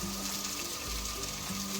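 Water is poured into a pot of matar pulao with peas during village-style cooking, producing a steady, close gushing splash that continues evenly throughout with no talking.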